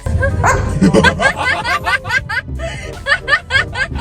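A dog reacts to passers-by who try to touch it, giving a rapid run of loud, close barks and yips mixed with voices and background babble.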